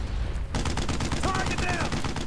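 Sustained rifle and machine-gun fire in the WWII shooter Brothers In Arms: Road to Hill 30, starting abruptly after a quieter moment and rattling on continuously, loud and close, with faint shouted voices mixed in.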